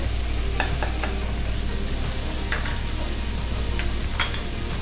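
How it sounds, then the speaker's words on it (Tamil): Turmeric and chili powder frying in melted butter for butter chicken, a dense, steady sizzle with occasional spoon scrapes while stirring, close and loud without talk. "இப்போ இந்த பட்டர்லேயே நம்ம வதங்குற மாதிரி இந்த பொடிங்களையும் போட்டுடலாம்"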